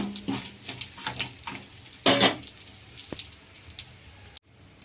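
A tempering of spices frying in oil for a raw wood apple chutney crackles and spits in irregular bursts, one loud splutter midway, close and without voices.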